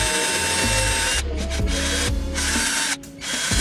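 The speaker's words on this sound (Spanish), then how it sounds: "puedes usar un taladro" A power drill whirs in short bursts, stopping and starting, as it twists wire held taut with pliers for a DIY necklace.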